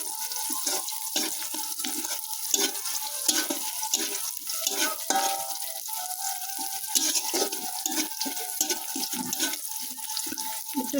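Whole spices such as green and black cardamom and cinnamon sizzle in hot oil with lightly fried onions for a biryani, a continuous loud crackle broken by repeated scraping stirs, with no talking.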